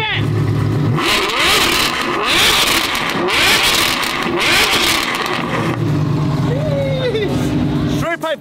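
Straight-piped Lamborghini engines rev hard on a street, with loud repeated rising and falling blasts close by and a crowd shouting over the exhaust.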